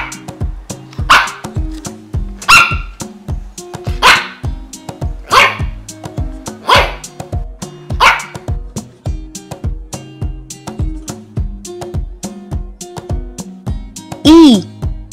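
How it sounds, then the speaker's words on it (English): A dog barks repeatedly at an even pace, loud and close, each bark standing out over a looping children's music backing, ending in a higher drawn-out yelp. "And the sound of the dog is..."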